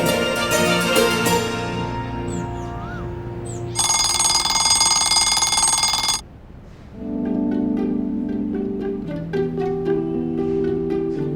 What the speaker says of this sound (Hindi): इतनी सुबह का अलार्म क्यों लगाया भाई?